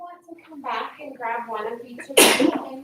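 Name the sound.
sneeze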